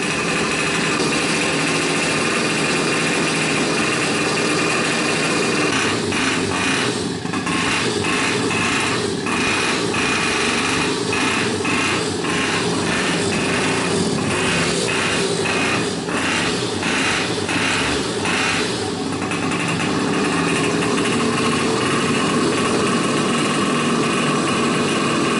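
Little Monsters pocket bike engine running continuously indoors, a steady buzzing drone with rapid revving pulses in the middle, loud and close throughout.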